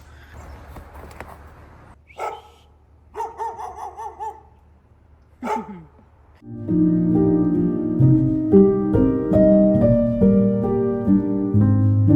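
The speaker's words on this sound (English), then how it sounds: "The neighbors' dogs are playing with the snow." Neighbours' dogs play in melting snow on a sunny morning, giving a few short, scattered barks and yelps at a moderate distance before loud music takes over the second half.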